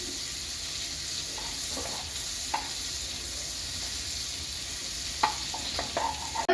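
Butter melts and sizzles in a hot pan as it is stirred, a soft steady crackle with a few light spatula taps and scrapes toward the end.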